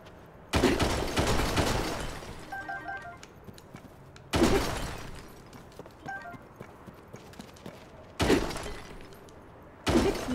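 A weapon breaks in The Legend of Zelda: Tears of the Kingdom video game, heard as four loud, sharp shattering crashes spaced a few seconds apart, each fading into quieter rustling in between.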